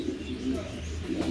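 A female pigeon coos softly in a few low, throaty pulses, with someone talking over it.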